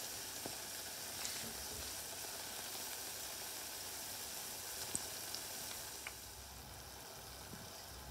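Battered onion rings sizzle steadily in hot oil in a narrow pot, a constant crackling hiss with occasional faint pops and clicks close by.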